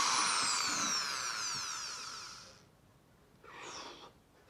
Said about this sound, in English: Right, plugged in, let's drill.